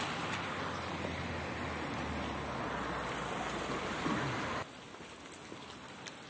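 Steady rain patters on surfaces nearby in Sintra, Portugal, a constant hiss with a low rumble that drops away partway through, leaving lighter dripping.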